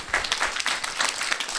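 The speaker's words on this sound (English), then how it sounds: "round of applause there" A small group claps after a talk on multiple sclerosis and walking, the individual hand claps distinct and fairly close in a brief, uneven burst.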